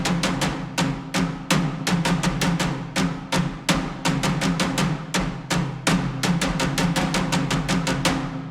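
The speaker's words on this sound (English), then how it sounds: "let's have a listen at the higher toms here" Higher toms in a cinematic percussion section strike in a driving, regular pattern, with sharp, resonant hits and accented beats repeating evenly for about eight seconds. No voices are heard.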